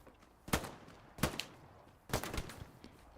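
Distant MG42 machine gun fire in Hell Let Loose, three faint separate bursts spaced about a second apart over quiet background.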